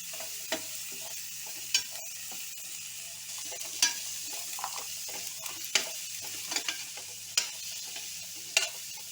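Green peas fry with garam masala in a pan for pulao, sizzling steadily. A spoon stirs and scrapes in sharp, irregular strokes, close up, with no talking.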